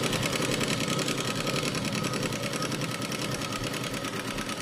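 Domestic sewing machine stitching fabric during a tailoring lesson, a steady fast mechanical whir with rapid needle rhythm running continuously and fairly loud throughout.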